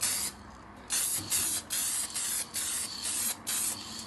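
Short bursts of matte lacquer spray hiss onto repaired bathroom tile, about six quick aerosol puffs with brief gaps, close and fairly quiet, no voices.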